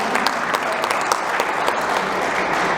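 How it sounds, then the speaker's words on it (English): Audience applause at a Betway Premiership season launch event, a dense, even burst of many hands clapping together that holds steady from start to finish. "Let's also clap for being responsible."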